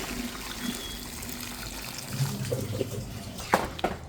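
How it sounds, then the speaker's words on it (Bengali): Hot water is poured into a pan of cooking duck meat, a soft running splash with a few brief clinks near the end, heard close with no talking. "এখন দিয়ে দিচ্ছি গরম জল।"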